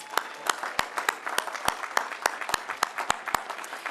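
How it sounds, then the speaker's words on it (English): Applause at a grand opening event for the police and fire departments, with sharp individual claps standing out in a steady rhythm over a softer crowd clapping throughout. "So let's give them a round of applause."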